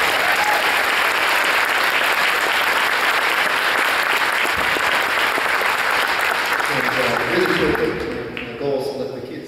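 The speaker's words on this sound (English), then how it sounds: "So I think that's worth applause right there itself." A high school band concert audience breaks into dense, sustained applause that holds loud for most of the stretch, then fades as a voice begins speaking near the end.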